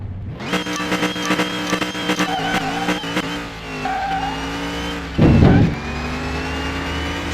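A car engine in Car Mechanic Simulator 2021 revs and accelerates loudly through rising gears, with a brief tire squeal partway through, close and alone without talk.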